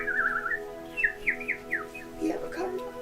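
Several people whistle imitations of a cardinal's call during a bird walk in West Newton, giving a run of short rising and falling whistled notes, then a lower, voiced squawky imitation near the end over a steady background hum.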